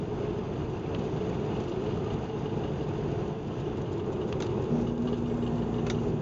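A flatbed truck's engine brake (Jake brake) rumbles loudly and continuously close by, a deep, steady mechanical roar with road noise mixed in.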